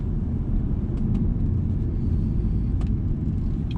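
Low, steady rumble of a 2008 Volvo S80 V8 engine while driving, a constant deep drone heard from inside the car, unbroken and fairly loud throughout with faint cabin noises above it.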